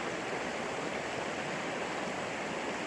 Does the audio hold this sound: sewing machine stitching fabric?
no